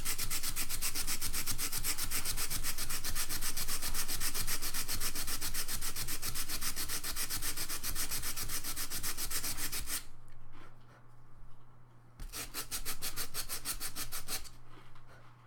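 Hand sanding of a craft project, a steady rapid back-and-forth rasping stroke that runs continuously and loud, then breaks off briefly and resumes in short bursts, close up with no talking.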